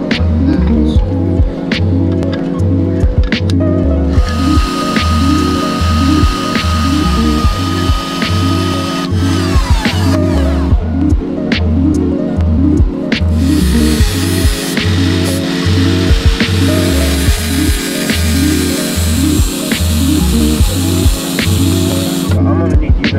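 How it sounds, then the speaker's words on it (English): A power tool cuts half an inch off a Mazda Miata tie rod in a shop, droning loudly and steadily with a pulsing throb and brief changes in pitch, while a voice talks over it. "so it will give me a parallel line to cut a half inch off and just shorten your tie rod point"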